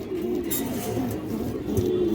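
Low, soft cooing from a female pigeon of good bloodline runs continuously at close range over a dull background hum.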